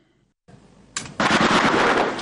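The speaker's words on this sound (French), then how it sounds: "À Bangui, des coups de feu retentissent encore au coin des rues." Gunfire rings out in the streets of Bangui, Central African Republic: a sharp report, then a loud, sustained burst of rapid automatic fire nearby after a quiet start.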